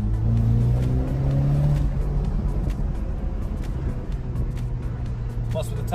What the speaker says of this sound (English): It also has the exhaust burbles that all you M enthusiasts love.